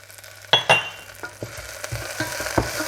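Spring onions hit hot sesame oil in a pan with two sharp clinking impacts, then a steady, soft sizzle broken by small pops and stirring taps.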